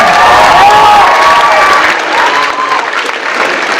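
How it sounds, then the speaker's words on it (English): Loud audience applause with cheering and whoops fills a room during a Writers Week event, a dense continuous roar of clapping close by that holds steady before easing slightly toward the end, with no speech on top. "give a really crazy loud round of applause for our tech crew"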